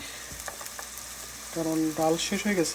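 Dal (lentils) cooking in a pan gives a steady, moderate frying sizzle, with a brief voice-like tonal sound rising over it in the second half.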